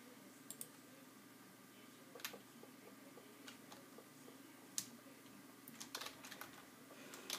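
Keys clack on a computer keyboard as a command is typed, faint and close, in scattered bursts of quick clicks over a quiet hum with no talk.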